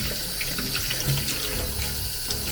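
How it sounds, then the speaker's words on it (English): Tomatoes, onions, white garlic and ginger are washed under a running kitchen tap, with a steady, close stream of water splashing over the vegetables in the sink throughout. "So we got some tomatoes, some onions, some white garlic, and a ginger. So let's wash them."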